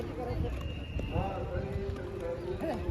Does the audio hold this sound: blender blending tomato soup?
no